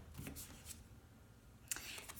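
Tarot cards handled and drawn from a deck, soft quick papery slides and shuffles close up and quiet, with a brief crisp flick near the end.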